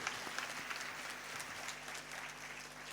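A church congregation at Christmas Mass claps in sustained, fairly distant applause, heard faintly over a low steady tone, with no break throughout.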